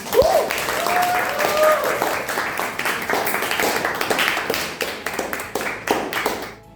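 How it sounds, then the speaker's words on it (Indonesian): Classroom applause for a student during a teaching session, a crisp patter of hands clapping from a small group, close and fairly loud, with a brief voice near the start before fading. "Kita berikan tepuk tangan untuk Alia."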